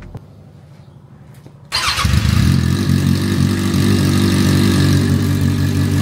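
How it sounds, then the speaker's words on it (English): Motorcycle with its stock muffler removed starts up after a brief crank, bursting into a loud, raw, rumbling idle that stays harsh and steady, heard close by. "we removed the muffler, the stock muffler. So this is what it sounds like. No muffler."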